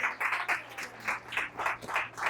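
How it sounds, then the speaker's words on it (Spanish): A church congregation claps in a steady, rhythmic beat, about eight loud bursts in just over two seconds, with no voices over it. "Denle un aplauso al Señor, porque Él fue el que prometió."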